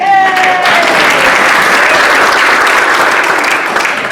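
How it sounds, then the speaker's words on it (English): Loud, dense applause from a meeting audience welcoming Leanne, steady and sustained throughout with no talking over it. "round of applause for Leanne"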